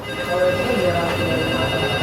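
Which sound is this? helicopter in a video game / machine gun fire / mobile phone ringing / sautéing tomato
mobile phone ringing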